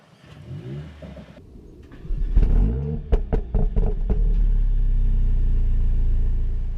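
Exhaust of a Mercedes-AMG A45 S in Sport Plus, with the upshift paddle held: a loud engine note builds into a burst of sharp crackling pops, then settles into a steady deep rumble, heard alone.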